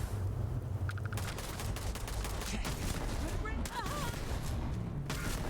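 Turret gunfire in the space game Starfield rattles in dense, continuous bursts of rapid shots mixed with game effects, loud and unbroken throughout the short stretch, while a voice speaks briefly over it.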